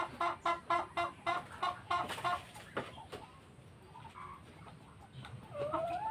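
Hens on a farm, including a large black laying hen, give a quick series of rhythmic close clucks, then softer scattered clucking and calls continue at lower volume.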